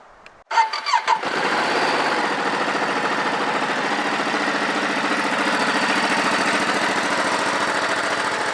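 A Ducati Desert X motorcycle fitted with a slip-on Desert X exhaust cranks briefly, catches with a few revs, then settles into a steady, loud, close rumbling idle.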